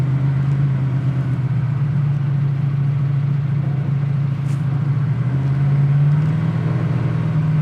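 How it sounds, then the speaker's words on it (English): A 1971 Camaro engine pulls with a steady, deep mid-pitched drone, heard from inside the car. The note shifts up slightly near the end as it moves through the gears easily. It stays loud and continuous with no talk. "Just gonna go through the gears nice and easy once"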